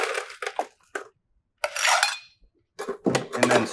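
Ice cubes are dropped into a glass for a bourbon old fashioned, with three close bursts of clattering, clinking cubes separated by brief silences.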